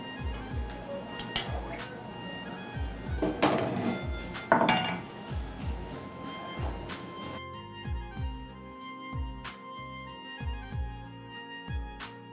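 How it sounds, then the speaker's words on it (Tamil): Repeated crisp knife taps slicing pistachios on a cutting board, steady chopping strokes close by in a kitchen, with occasional clinks of utensils and some faint talk in the background. "அதுக்குள்ளே அந்த பிஸ்தா ஸ்லைஸ் பண்ணிக்கலாம்."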